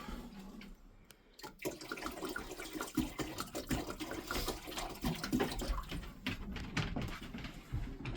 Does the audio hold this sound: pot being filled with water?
yes